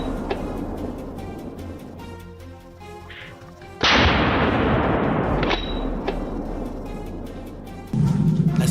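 A single sharp, loud rifle shot fired at a wild boar during a hunt outdoors, bursting suddenly after a quiet stretch and followed by a long, noisy decaying tail.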